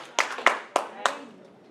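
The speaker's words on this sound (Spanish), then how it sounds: "Denle un aplauso, Señor, si me entiende." A church congregation claps in worship: four sharp, evenly spaced hand claps ring out close by, each fading quickly.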